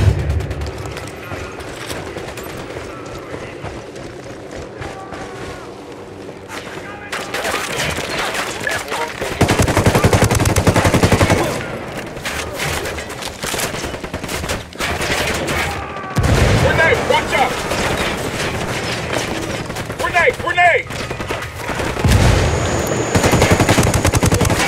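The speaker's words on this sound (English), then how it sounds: "Opening fire." Dense automatic gunfire and rapid shots keep crackling through a firefight in the video game Ghost Recon Wildlands, loud and nearly continuous, with booms and mechanical clatter mixed in and voices speaking now and then.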